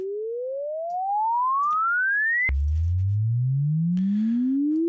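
Synthesized sine wave sweeps built in Max/MSP gen~ for a Shepard tone: a pure tone glides steadily upward, cuts off, then restarts low as a slower, thicker rising sweep with faint crackles, alone with no voice.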